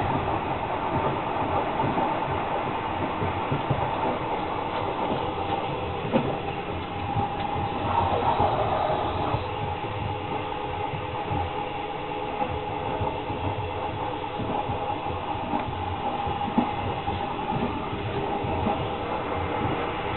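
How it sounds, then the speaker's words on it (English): Continuous rumble and rattle of a long-distance passenger train travelling from Kuala Lumpur to Bangkok, a steady, moderately loud interior drone with faint rhythmic clatter throughout and no talking. "So I'm showing you what it's like here on the train."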